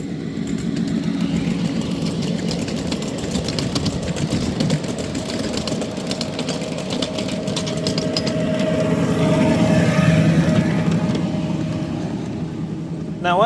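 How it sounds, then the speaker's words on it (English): Small 7 1/4 inch gauge live steam miniature trains rumble past at a club railway meet, a steady low mechanical churn with faint hissing and a brief whistle-like tone, with people talking nearby. "This is also a good spot to catch meets between passing trains."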